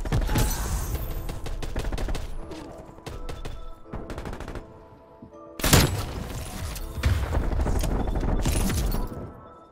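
Dense bursts of automatic and single-shot gunfire from the video game Black Ops Cold War, loud and sustained with brief lulls and renewed heavy volleys, no talk.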